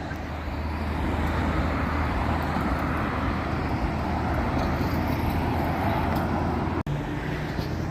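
A car driving through a residential neighborhood on the edge of a poorer area, a steady interior road rumble and tire roar throughout, with one sharp click near the end.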